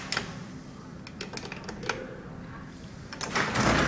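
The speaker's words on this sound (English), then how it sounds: "Here the relay's clicking." Relays in vintage American Co traction elevator machinery at 34 West 46th Street in New York City click several times in an irregular sequence of sharp, close ticks over a low steady machine-room hum.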